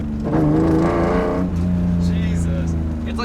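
A BMW E30 with a swapped S52 engine and individual throttle bodies revs loud and close, a steady raspy drone with rising and falling pitch. Voices talk over it.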